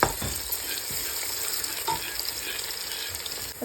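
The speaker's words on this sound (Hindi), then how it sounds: "सबसे पहले अनियंस को फ्राई कर लें और उसमें अब मैं डालूँगी जिंजर, गार्लिक और हरी मिर्च कूटी हुई" Onions frying in a pan with crushed ginger, garlic and green chilli, a close, steady sizzle broken by repeated scraping stirs of a spoon against the pan.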